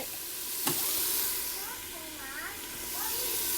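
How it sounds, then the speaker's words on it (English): Garlic sautés in olive oil in an Instant Pot on the hot saute setting, giving a continuous close hiss and sizzle with a sharp clink near the start; a faint voice murmurs underneath. "Just to go ahead and saute the garlic."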